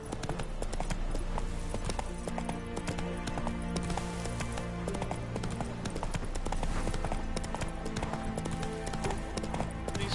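Roach, the horse in The Witcher 3, clip-clops steadily on hooves throughout, mixed into a dense, loud game soundscape of music and ambience.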